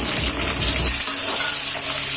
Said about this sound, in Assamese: পিঁয়াজখিনি দি দিছো এনেকৈ কটা পিঁয়াজখিনি